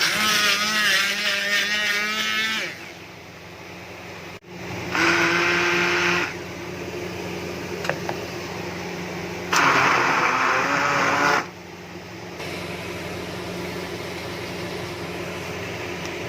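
A blender motor whirs in several bursts grinding ginger and garlic into paste, loud grinding spells separated by quieter pauses with a low background hum.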